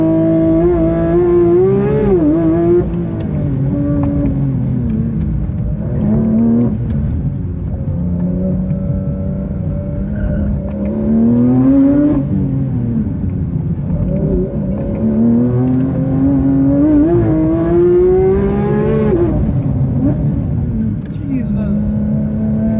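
A Porsche 992 GT3 RS accelerates hard on a circuit, its engine droning loud and close from inside the car with repeated rising pitch sweeps between gear changes, while occupants talk over it.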